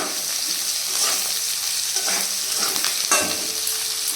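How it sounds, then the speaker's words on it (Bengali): Onion stalks and potatoes fry in a pan with a steady, close sizzle, punctuated by a few brief stirring scrapes, and no voices are heard. "এদিকে পেঁয়াজ কলি আলু ভাজা বসিয়েছি"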